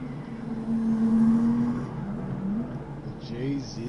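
Toyota JZX100 Chaser engine in the CarX Drift racing game, a steady droning tone that rises and swells midway then wavers, with brief pitch sweeps later and a voice talking over it.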